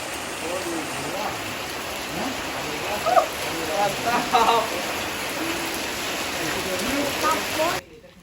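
Heavy rain pours steadily down at a fishing spot, a dense continuous hiss with a few louder splashes, while people talk faintly beneath it before the sound cuts off near the end.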